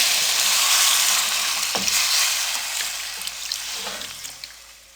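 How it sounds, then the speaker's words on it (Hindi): Two cups of water poured into a pan of sizzling vegetables for soup noodles, a loud steady frying hiss and bubbling that gradually settles and softens as the water takes over. "अब इसमें हम 2 कप पानी ऐड कर देंगे।"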